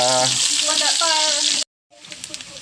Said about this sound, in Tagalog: Sunod natin yung sibuyas. Okay, gisa-gisa.